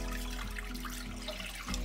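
Warm water pours steadily into a mixing bowl for homemade no-knead bread dough, a soft continuous splashing trickle heard close and alone without talking.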